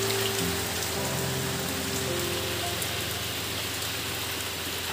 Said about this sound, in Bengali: বেশ ভালো জোরে বৃষ্টি হচ্ছে।